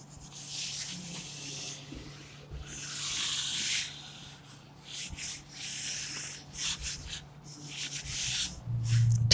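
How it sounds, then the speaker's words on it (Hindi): A classroom board being erased by hand, giving soft, irregular rubbing and swishing strokes in bursts, fairly quiet and close, with no speech. "इससे आगे वाला मैं रब कर देता हूँ।"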